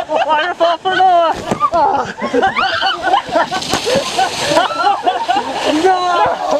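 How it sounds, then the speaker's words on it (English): Water from a ride's waterfall splashing and sloshing down onto riders amid excited shouting and squealing voices, with a heavier gush of spray partway through. "Here comes waterfall!"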